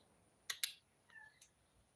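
A feral cat outdoors gives a short, thin meow near the middle, following a couple of sharp clicks, with quiet surroundings otherwise.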